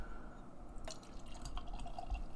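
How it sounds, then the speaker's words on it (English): Brooklyn Brewery Black Ops barrel-aged imperial stout is poured from the bottle into a glass, giving a quiet, close trickle with soft liquid splashes and small glassy drips. "So I'll be pouring this into my Brother Chimp glass this afternoon."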